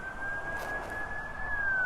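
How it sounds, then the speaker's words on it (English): An emergency siren, likely the passing ambulance, holds a steady wailing tone at middle distance behind outdoor background noise near a Topeka, Kansas landscaping job, with no speech. "There's an ambulance."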